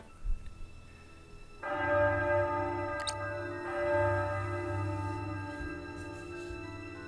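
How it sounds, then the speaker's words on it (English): A church bell tolling midnight at Ironstone in the Triangle Strategy video game, sounding as slow, sustained ringing strokes that hang and overlap over a low background, with no talking. "That's the bell at Ironstone."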